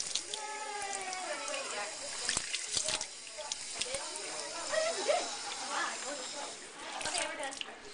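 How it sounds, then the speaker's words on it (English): Test vial rinsed under running water in a sink, a faint continuous trickle and splash with small clinks, while a person talks throughout. "Now we rinse the vial 3 times in the sink"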